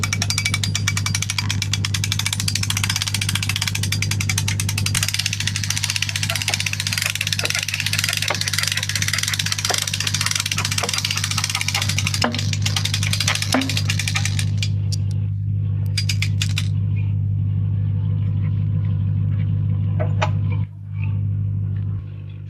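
Steady low mechanical hum with a constant drone, like a winch motor hoisting a Key Largo 236cc center-console boat onto its trailer, with brief clanks and a drop-off near the end.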